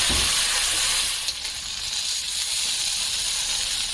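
Beef steak for peppered steak sizzling in a pan, a steady broadband hiss of frying fat held at an even level throughout, with no talk over it.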